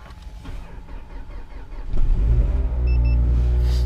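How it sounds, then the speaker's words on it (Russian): A Mazda 6 engine starting in frost at minus 17 after sitting for two days: a strained cranking that catches around the two-second mark and settles into a steady low idle, close by. "Для начала давайте тачку заведем."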